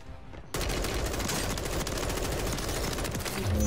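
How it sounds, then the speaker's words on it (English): A precision airstrike in Call of Duty Warzone erupts as a dense, sustained barrage of rapid blasts that starts abruptly after a quiet half second and stays loud and unbroken to the end. "Friendly precision airstrike inbound."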